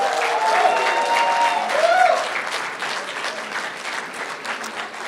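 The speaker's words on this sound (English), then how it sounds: "A round of applause for the class of 2022." A graduation ceremony audience applauds the class of 2022 with a sustained, loud burst of clapping that peaks and then thins slightly, plus a few faint cheers or tones over the crowd.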